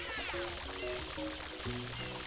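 Water squirting from the FLUDD nozzle in Super Mario Sunshine, a steady hissing spray with game music tones layered over it, sustained for a couple of seconds.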